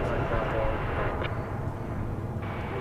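An American Airlines jet departing DFW Airport makes a steady, loud broadband engine roar that stays constant over the short stretch.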